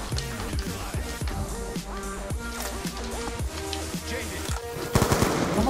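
Rapid automatic gunfire in the Rainbow Six video game, a dense run of loud repeated shots with hardly a break, ending in a harsher final burst.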